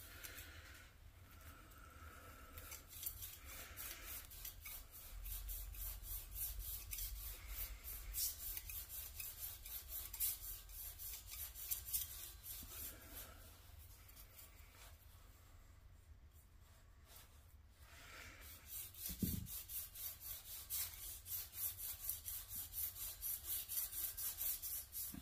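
Sandpaper rubs by hand back and forth along a car crankshaft's journals and front main bearing, a slow, steady rasping that pauses briefly midway, then resumes, quiet and close.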